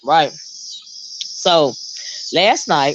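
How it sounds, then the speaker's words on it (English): Cicadas calling from nearby shade trees close to a porch, a steady high buzzing drone running throughout, loud and close, with someone talking over it in bursts. "y'all used to hearing cicadas, but they're real close to my porch."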